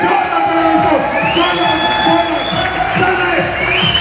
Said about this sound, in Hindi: मैं सर के लिए जोरदार ताली बजाना चाहूंगा